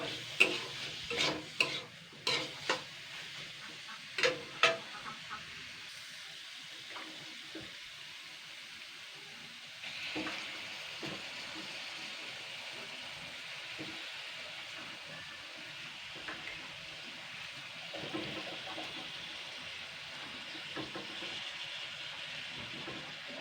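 Snails and potatoes are sautéed in a pan, with several sharp scraping stirs near the start, then a soft continuous sizzle and occasional clinks and scrapes, fairly quiet and close, with no talking.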